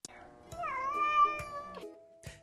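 A Minnesota cat with 28 toes gives one drawn-out, rising-and-falling meow up close, framed by short clicks and rustles, with no speech.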